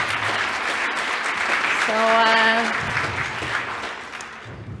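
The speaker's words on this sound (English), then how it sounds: "Another round of applause, I think." Audience at a conference panel session applauds its speakers with a steady wash of clapping, while a voice briefly sounds over the middle.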